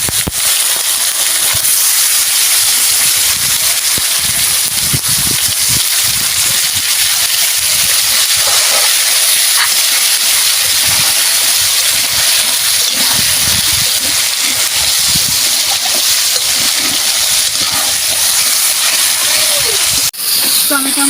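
Tomatoes with a little cumin fry in a pan for a pointed-gourd dish, giving a loud, unbroken hissing sizzle that runs close and steady the whole time.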